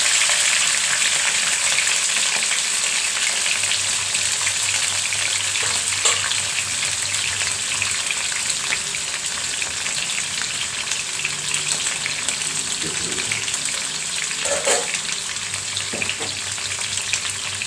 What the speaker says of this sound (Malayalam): അപ്പം ഞാൻ വിചാരിച്ചതെല്ലാം കൂടി എണ്ണയ്ക്കകത്തേക്കിട്ട് ശരിയാക്കി എടുക്കാമെന്ന്